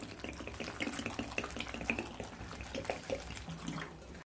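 Running water from a tap splashing steadily over cut mushrooms being washed in a kitchen, a continuous close trickle with small irregular spatters throughout.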